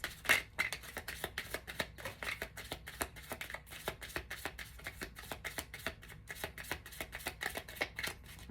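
Tarot deck being shuffled by hand, a steady run of crisp papery card riffles and slaps repeating close up for several seconds, with no talking.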